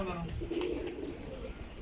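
Flying pigeons coo in short, low, soft bursts, with a voice murmuring faintly underneath.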